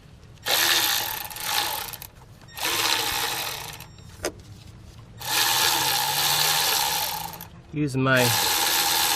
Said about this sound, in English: fancy 1/4 inch Milwaukee, trying it out finally, and on these 7mm bolts, it sure is doing the job.